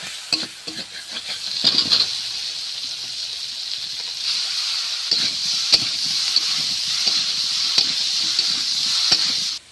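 Young jackfruit (echor) sautés in a little oil in a pan, giving a steady close sizzle with frequent scraping stir strokes and soft knocks of the spatula.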